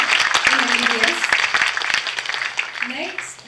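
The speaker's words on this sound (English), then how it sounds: "let's have a huge round of applause for yourself because you all have managed to get a seat in MBBS" Newly admitted MBBS students at Smt. NHL Municipal Medical College applaud themselves, a crowd's steady clapping running throughout with a voice speaking over it, fading slightly toward the end.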